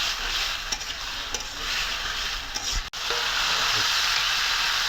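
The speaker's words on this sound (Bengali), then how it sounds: "একবারে কচু শাকটা ভাজা ভাজা করবো।" Taro leaves, boiled first and then tossed with turmeric and seven or eight green chillies, sizzle steadily in a pan while being stirred, with a few scraping clicks over a continuous loud frying hiss.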